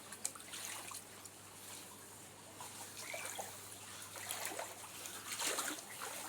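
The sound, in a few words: flood water flowing into rooms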